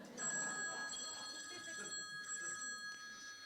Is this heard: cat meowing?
no